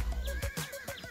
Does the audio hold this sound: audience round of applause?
no